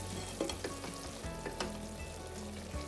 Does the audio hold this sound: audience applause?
no